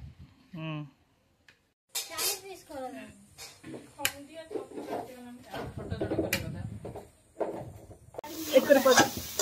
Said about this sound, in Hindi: तेल पड़ला सोरिष तेल पड़ला गोटा मसला पियाज पड़ला